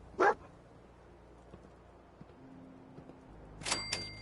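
Dogmeat, the dog companion in Fallout 4, lets out a single sharp close bark, followed by quiet ambience and then a short pair of yips near the end.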